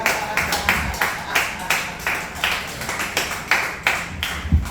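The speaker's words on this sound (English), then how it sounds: "Clap it up for Todd" Audience at a live comedy night clapping for comedian Todd Cooper, a steady run of sharp, close hand claps repeating in a rhythmic pattern for several seconds.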